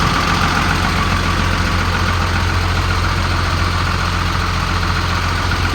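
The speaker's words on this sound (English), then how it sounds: "The automatic transmission engages." A 2002 Sterling M8500 bucket truck's diesel engine idles steadily and loud up close, a constant low rumble with a faint knock running throughout.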